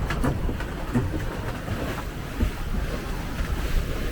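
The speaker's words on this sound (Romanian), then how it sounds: "nu știu dacă am fost vreodată pe valuri de astea așa mari" Large sea waves surge and crash around a small boat at sea near Santa Ponça, with heavy continuous water rush and wind buffeting the microphone, loud and close throughout.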